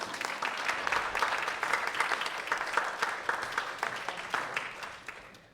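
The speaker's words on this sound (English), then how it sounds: "Let's give him another round of applause." Church congregation at Unity of Bloomington applauding after a meditation and message, a steady, moderately distant patter of many hands clapping that fades toward the end.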